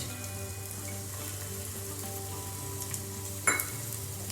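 Capsicum, cabbage and corn fry in oil, giving a steady close sizzle with light crackle and one sharper clatter near the end. No one speaks.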